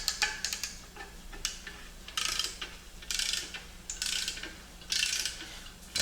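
A torque wrench ratchets and clicks in short bursts while tightening the pressure plate bolts on a 1960 Ford F-250 drivetrain, crisp close metallic clicks separated by brief pauses in a quiet workshop.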